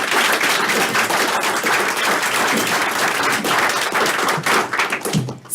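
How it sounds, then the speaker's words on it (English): An audience at a county commissioners meeting gives a round of applause for new athletes, a dense, steady burst of clapping close by that thins out and fades at the end. "if we could kind of give a round of applause for them"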